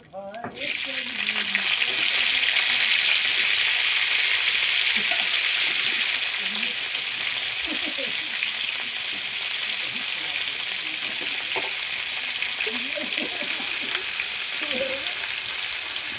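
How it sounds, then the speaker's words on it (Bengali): Cauliflower pieces dropped into hot oil in a home kitchen, a loud burst of sizzling that settles into a steady frying hiss, with occasional stirring and utensil clinks underneath. "আমি এখানে ফুলকপিগুলো লইছিলাম, আমি ফুলকপিটা তেলে ছেড়ে দিই।"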